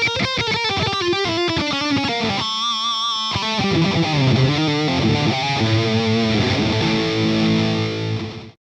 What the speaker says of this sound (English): Let's go back to the distortion channel for just a second